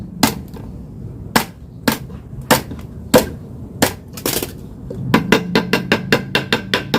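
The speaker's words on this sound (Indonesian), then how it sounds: "Kemudian dengan palu seperti ini" Sharp hammer blows strike a screen-printing frame while its fabric is replaced, first as spaced single knocks, then as a quicker run of close, loud taps near the end.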